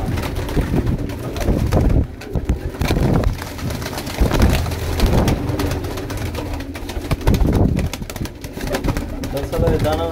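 Pigeons coo repeatedly in a Faisalabad loft, low throaty calls overlapping and rising every second or two, with people talking throughout.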